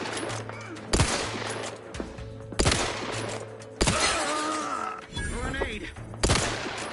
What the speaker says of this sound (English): Oh no, he's throwing a grenade!